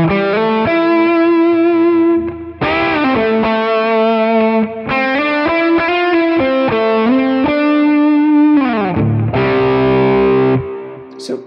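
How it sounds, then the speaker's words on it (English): High-gain lead guitar tone from Quad Cortex amp models: a loud, distorted, sustained melodic lead line with bending, singing notes and a few short pauses between phrases, played alone. "So I have a lead tone where all I'm doing is I'm upping the gain on the amp models"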